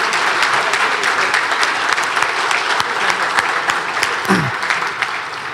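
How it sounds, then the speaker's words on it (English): Loud applause from a gala audience honoring a Coach of the Year at an All Stars event, a sustained wash of clapping with scattered louder individual claps and a brief voice near the end. "Big round of applause for Doug Luke,"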